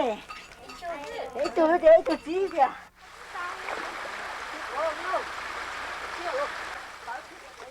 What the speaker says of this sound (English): A community of village women gather at dawn's first light to rinse the boiled fibers in the nearby cold stream.